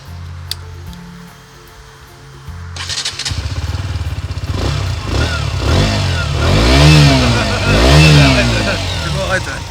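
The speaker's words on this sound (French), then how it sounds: "Elle démarrait ma moto." A KTM motorcycle fitted with a cheap Yoshimura-style exhaust from AliExpress cranks and catches, settling into a close, loud, choppy idle before several sharp revs rise and fall, with people talking nearby.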